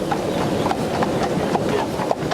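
Horse hooves clip-clop in an irregular patter on a mountain path during a transhumance in Bethmale, Ariège, moderately near amid a steady background rumble, with no talking.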